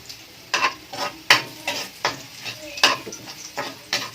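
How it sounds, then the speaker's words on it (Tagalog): Garlic frying in a pan until golden brown for a mung bean (monggo) dish: a soft sizzle broken by repeated sharp spatula scrapes and clinks, close up, with no talking. "i-golden brown lang natin yung bawang para mas maganda"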